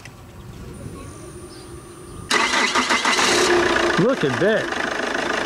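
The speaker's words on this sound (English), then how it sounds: "Listen to that little diesel." A small diesel car engine cranks and catches with a sudden loud start, then settles into a steady idle that runs on under a man's brief remark.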